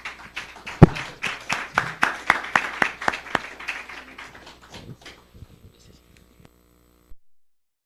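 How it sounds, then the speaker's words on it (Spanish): An audience applauds after a conference talk, a short burst of scattered clapping in a room that thins out and fades within a few seconds, over a faint hum. "Le damos un fuerte aplauso"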